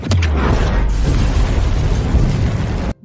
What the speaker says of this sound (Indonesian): Nova akan meledakkan terowongan yang ada di sana